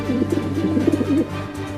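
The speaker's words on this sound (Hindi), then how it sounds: "चिंटू के घर में से कबूतर की आवाज आ रही है।" A pigeon coos in soft, rolling low notes, repeated several times close by over a steady background hum.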